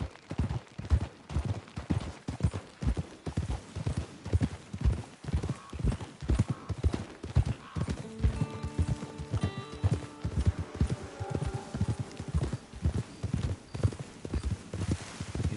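Horse hooves clip-clopping in the video game Red Dead Redemption 2 Online, a steady rhythmic trot of close, distinct hoofbeats throughout, with a brief whinny and faint game music tones partway through.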